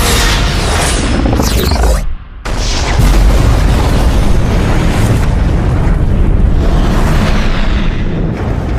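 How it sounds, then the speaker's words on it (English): Tri-cobalt torpedoes strike in a sci-fi space battle, setting off massive secondary explosions: a dense, roaring wall of booming blasts that runs nearly continuously for about nine seconds, broken by one brief dip. "Massive secondary explosions."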